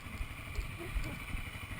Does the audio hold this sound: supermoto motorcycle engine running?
yes